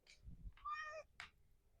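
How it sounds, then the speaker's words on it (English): A pet cat named Spicy gives a couple of short, close meows, one drawn-out, in a quiet indoor room. "My cat Spicy is saying hi to you guys."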